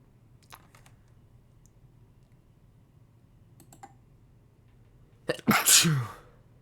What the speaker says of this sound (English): sorry, Peter Griffin had to sneeze